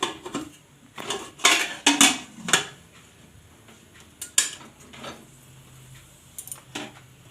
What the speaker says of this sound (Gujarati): હવે આપણે કુકર ઢાંકી દેવું.